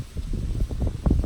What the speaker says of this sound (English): Hopefully the audio isn't horrible with this wind.